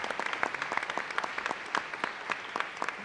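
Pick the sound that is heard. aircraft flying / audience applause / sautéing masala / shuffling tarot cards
audience applause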